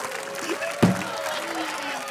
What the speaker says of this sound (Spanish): ¡Aplauso para el Escorpión Dorado!